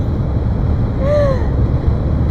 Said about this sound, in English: Today it's so windy